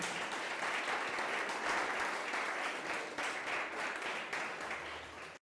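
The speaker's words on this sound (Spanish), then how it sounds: "Dele ese aplauso al Rey, por favor." A church congregation applauds at the end of a Christian baptism sermon. Dense, steady clapping continues for about five seconds, faint and slightly distant, then stops abruptly.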